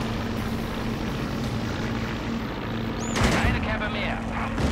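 Propeller aircraft drone and distant gunfire in the World War II strategy game Blitzkrieg, set around Kharkov in May 1942, a steady engine roar with a louder whoosh of a passing plane near the end.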